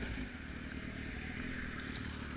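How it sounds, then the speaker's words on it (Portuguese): A Honda Hornet motorcycle engine misfires, a rough, uneven rumbling with crackly stutters, heard faintly and briefly with no talk. "A moto tá falhando."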